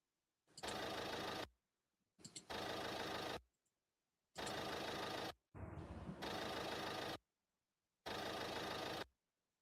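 Engines idling in five separate steady bursts of a second or more each, loud and close with silence between, one burst carrying a slight wavering change partway through.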